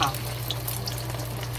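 Beaten egg frying in a pot of hot oil with scallions, a steady soft sizzle close by with a low hum underneath, with no speech.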